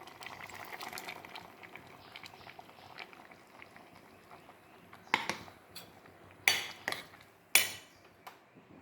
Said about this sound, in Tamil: இப்போ தேங்காய் பருப்பு போட்டு நல்லா கொதி வந்துருச்சு